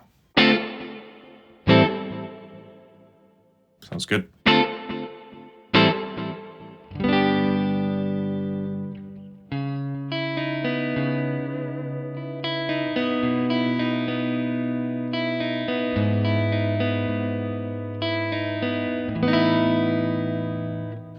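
An electric guitar plays plucked notes and then sustained chords through the delay effect of a Neural DSP Archetype: John Mayer plugin, the repeats trailing behind each note. A brief voice appears.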